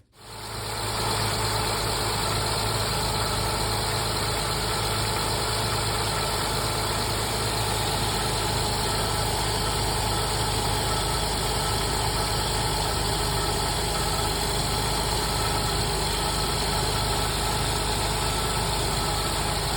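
A 2007 Jeep Wrangler's engine idles steadily after a front crankshaft seal and harmonic balancer repair, a constant loud, even drone with a mechanical whine that holds unchanged from start to finish, with no voices.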